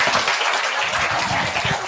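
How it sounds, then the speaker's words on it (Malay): Steady applause from a crowd, dense clapping filling the whole stretch at an even, fairly loud level. "Okey, berikan tepukan."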